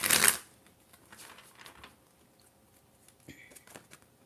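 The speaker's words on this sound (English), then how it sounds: "This card just flipped over when I was trying to shuffle the deck" A deck of tarot cards being shuffled, with a sharp riffle burst at the start followed by faint soft card slides and taps, quiet and close.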